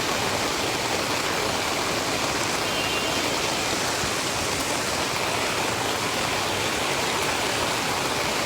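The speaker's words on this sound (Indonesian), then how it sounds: "Hujan saat ini sangat deras." Heavy downpour during a flood in Palembang, a dense unbroken hiss of rain and rushing water, loud and steady throughout with no voices.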